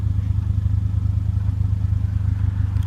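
A 2015 Mercedes-Benz GLA 45 AMG with a quad black-tip exhaust and dual sound mode gives a steady, loud low-pitched rumble. It holds an even drone near the car for the whole stretch, with no talk over it.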